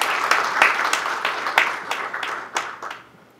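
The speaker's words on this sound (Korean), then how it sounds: "노주환 대표님께 힘찬 박수 부탁드리겠습니다." Audience at a public hearing on AI industrial technology gives brisk applause, a cluster of distinct close claps that thins out and fades toward the end, no voices on top.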